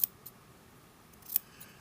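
Scissors snip excess fabric from a sewn patch pocket, a few quick, crisp cuts close by in a quiet room.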